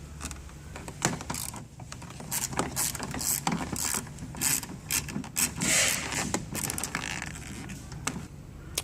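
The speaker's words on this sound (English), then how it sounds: "tool we use for this next step is this ratchet, long extension, and a 25" A ratchet on a long extension with a Torx 25 bit backs out bolts inside a BMW E39 door, producing rapid clicking pawl ratchets in repeated bursts, close and fairly quiet.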